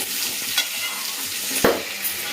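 Food for raw mango pachadi sizzles steadily in hot oil as it is sautéed and stirred, with a continuous crackling hiss and occasional scrapes of a utensil in the pan.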